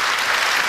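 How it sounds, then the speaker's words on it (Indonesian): Studio audience applause on an Indonesian television talk show, a brief burst of many hands clapping together, loud and continuous without speech. "Tepuk tangan sekali lagi dong."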